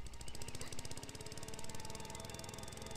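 A lawnmower engine in the video game Beyond Eyes, set in a city, runs loud and close with a steady rattling, rapidly pulsing chug that holds for the whole stretch.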